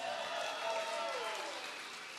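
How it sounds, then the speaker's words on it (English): At a comedy roast, a crowd gives the host a round of applause, a soft, continuous wash of clapping heard somewhat distant and steady throughout. "Everyone give her a round of applause"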